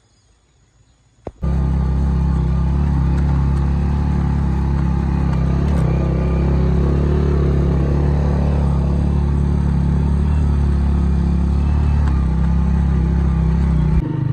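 A motorcycle climbs a hill road in the Shangla valley, its engine starting after a quiet moment and then holding a loud, steady close-up rumble with slight revving throughout.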